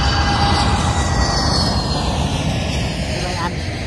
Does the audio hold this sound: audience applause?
no